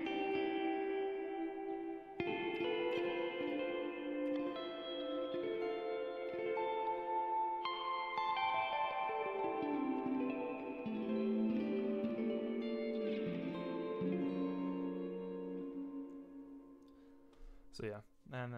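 An electric guitar plays through a long delay pedal on a washed preset at 90% mix, with notes smearing into sustained, echoing trails that overlap and slowly descend, ending with a few sharp plucks.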